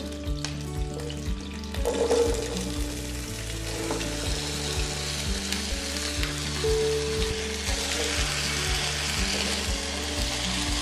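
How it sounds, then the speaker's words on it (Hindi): Mixed vegetables hit a hot pan and fry for a vegetable korma, a loud, dense sizzle that carries on steadily with light stirring scrapes throughout. "और अब इसके अंदर ये वेजिटेबल्स डाल देंगे।"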